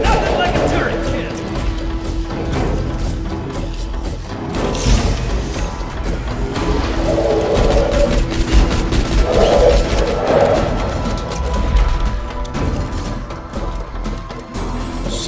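A deployed turret in Borderlands 2 fires steadily, rapid mechanical clatter and overlapping gunfire bursts running nonstop alongside dense in-game combat noise at a constant high level.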